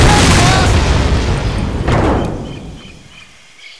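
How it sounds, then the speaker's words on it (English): A booby trap detonates in Medal of Honor: Pacific Assault with a loud, close boom, followed by a second blast whose rumble decays into near quiet, ending in a sudden thump. "They booby-trapped the place, Frank!"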